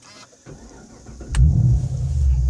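A car engine cranks and catches on a hot day, settling into a steady, loud idle close by after a brief starter whirr.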